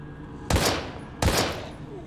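Two sharp gunshots ring out in the survival horror video game Daymare 1998, about 0.7 seconds apart, each with a sharp crack and a fading tail over a low background.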